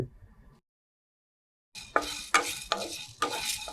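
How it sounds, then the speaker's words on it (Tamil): A spatula stirs and scrapes through bay leaf, cinnamon, cloves, cardamom, black pepper and dried chillies dry roasting in a pan. The scrapes are close and rhythmic and follow a brief silence. "நல்லா ட்ரை ரோஸ்ட் பண்ணிக்கோங்க"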